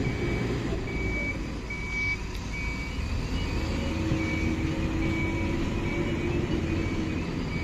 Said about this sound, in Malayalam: നമ്മുടെ ടിപ്പർ എന്തായാലും റിവേഴ്സ് അടിച്ച് ഇറ്റാച്ചിൻ്റെ അടുത്ത് വെച്ചോണ്ടിരിക്കുകയാണ്